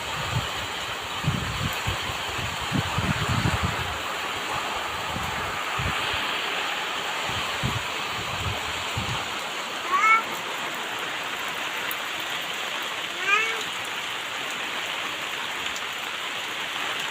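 Heavy rain pours steadily onto cotton fields flattened by wind, a dense even hiss with low rumbling thumps in the first half and a few faint bird chirps later.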